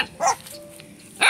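A dog barks twice, a sharp yelp followed after a short pause by a second bark, fairly close, with faint background noise between and no talk.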